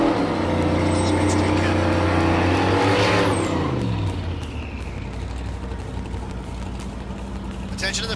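A drag racing car launches and accelerates hard on a pass, a loud rising engine roar for a few seconds that fades as it pulls away, leaving steady background noise.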